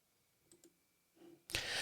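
A computer mouse clicks two quick times, faint and close in a quiet room, then a louder broadband burst of sound starts near the end.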